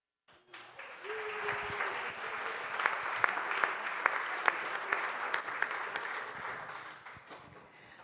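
Audience applause at a summit opening plenary, a room of clapping that swells quickly, holds at a moderate level for several seconds with a few sharp individual claps, then fades out.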